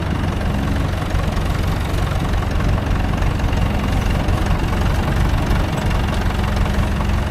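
A tractor engine runs steadily at close range, a dense, loud, low rumble with a rough, knocking texture that holds constant throughout, with no talk over it.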